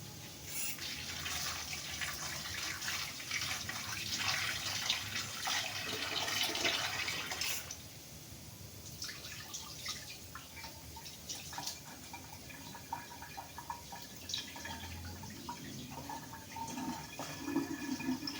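Bitter gourd being washed under running tap water, a steady close splashing stream for several seconds that drops to quieter trickling and dripping, with no voices.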